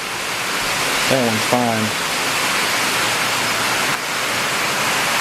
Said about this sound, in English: let's watch it rain for just a second